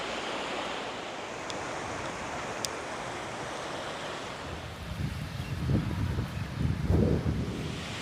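Ocean waves at Ao Manao Beach, Thailand: a soft, steady wash of surf mixed with wind, swelling into louder nearby breaking rushes toward the end.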